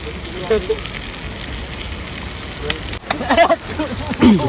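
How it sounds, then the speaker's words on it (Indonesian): Chilies fry in hot oil during outdoor cooking in Tuban, a continuous crackling sizzle with louder spattering bursts, while people talk nearby. "Terus lomboe digoreng."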